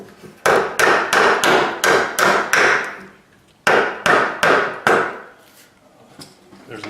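A hammer drives a metal strap over electrical cable into wood framing while a light and switch are being wired: seven quick, sharp, close strikes, a short pause, then four more blows with no talking.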